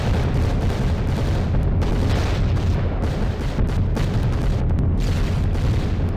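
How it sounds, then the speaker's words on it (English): Flak anti-aircraft fire bursting around a B-17 Flying Fortress bomber in a video game: a dense, continuous rumble of deep booms and thuds, loud and unbroken over the engine drone, with no talking. "Oh goodness, here comes the flak."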